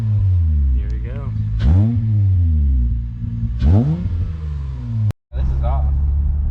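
A 4th-generation Acura TL fitted with an Endless RPM exhaust and J-pipe revs hard several times, each rev swelling and falling away. Loud and close, with a brief drop near the end and people talking over the engine.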